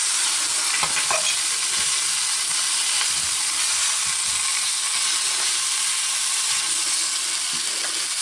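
A spoonful of flour stirred into a pan with chicken to toast it, a constant frying hiss with occasional light spoon scrapes against the pan, close and steady, with no talking.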